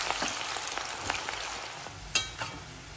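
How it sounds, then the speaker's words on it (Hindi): Sliced onions deep frying in hot oil over a high flame, a continuous close bright sizzle with scattered crackles and one sharp pop near the end. "प्याज को हमें डीप फ्राई करना है गोल्डन ब्राउन होने तक"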